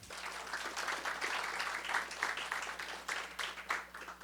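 A crowd at a business leaders' workshop and networking meeting claps in a sustained round of applause, a dense, even patter of many hands heard from a moderate distance with a low steady hum beneath it.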